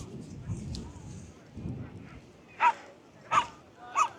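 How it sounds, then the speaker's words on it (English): Dogs and puppies in the crowd at the Rossnowlagh 12th main parade in County Donegal, with three short, sharp yips or barks in the second half over low crowd voices and murmuring. "There's quite a few pups down here."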